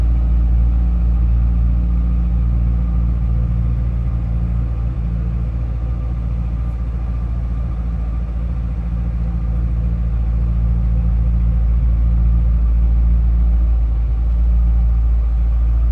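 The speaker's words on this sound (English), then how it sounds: "Nice deep throaty exhaust note." A deep, throaty supercharged V8 exhaust on a 2006 Ford Mustang Saleen S281 idles steadily nearby, a continuous low rumble without revving.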